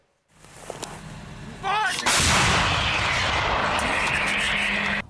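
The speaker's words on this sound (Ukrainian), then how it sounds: "Ось так стріляє французька гаубиця Цезар." A loud, heavy blast from a French CAESAR howitzer booms and rolls on, echoing for several seconds after a brief whine and rumble beforehand.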